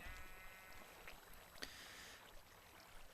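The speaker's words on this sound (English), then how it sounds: "Hello sheep, you shouldn't be out" A sheep bleats faintly in a blocky Minecraft-style survival game, with a couple of short calls rising briefly over a steady background hiss and soft game ambience.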